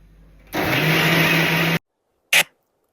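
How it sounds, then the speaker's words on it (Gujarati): A mixer grinder blends buttermilk with cumin and salt in a loud, steady whir lasting just over a second, then falls silent before a short second burst. "એમાં મેં જીરું અને મીઠું નાખ્યું હતું અને મસ્ત મજાનું પીસી નાખ્યું"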